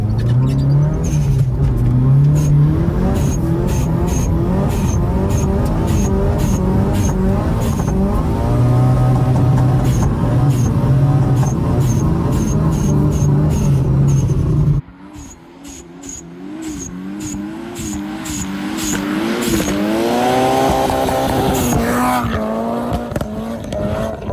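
Mitsubishi Evo 6 being driven, its engine droning and revving with rising and falling pitch, loud and close from inside the car; the sound dips sharply midway, then builds again with climbing revs.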